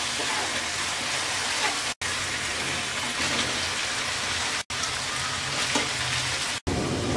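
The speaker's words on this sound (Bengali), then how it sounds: "এবার আমরা ভাজা আলু আর ছানা দিয়ে দিচ্ছি।" Fried potatoes and chhana go into sizzling masala in a pan, giving a loud, dense, rain-like frying hiss that runs continuously, broken by a few brief cuts, with no voices.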